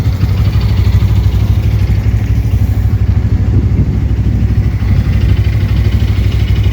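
A motorcycle idling through a cold start on a chilly, windy morning near Kalimpong, its engine throbbing in a steady, loud, even pulse close by, with no talk over it.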